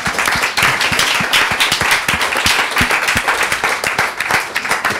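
A room full of people applauding at a panel event, dense steady clapping throughout, loud and close.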